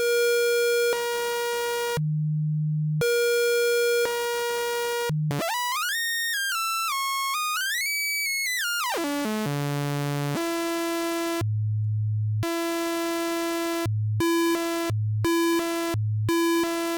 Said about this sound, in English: sine wave, square wave instead of sine wave, saw wave, square wave